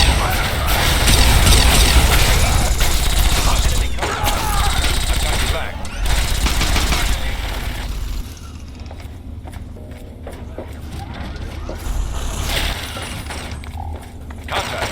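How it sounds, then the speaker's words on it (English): Gunfire in the Fallout 3 video game crackles in dense, loud bursts for about half the time, then thins to scattered shots and quieter noise, with voices talking throughout. "Opening fire."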